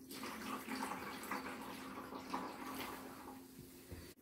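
Water draining through a Zero Water filter tank while making distilled water for medical equipment: a steady, fairly quiet trickling wash with a constant hum beneath, running alone for about four seconds before stopping abruptly.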